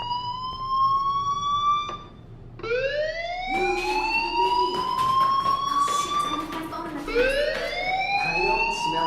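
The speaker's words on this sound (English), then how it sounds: "do you hear that fire alarm?" A fire alarm in the video game Life is Strange rings loud and close, with repeated rising electronic siren sweeps layered with several tones and running throughout over a quiet background.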